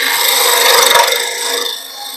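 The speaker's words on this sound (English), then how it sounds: "We're going to start with a parting tool. We're just going to part in here on this end." A parting tool cuts into a spinning wood blank on a lathe, giving a loud, steady scraping rasp that peaks and then eases off slightly as the cut goes on, with no voices over it.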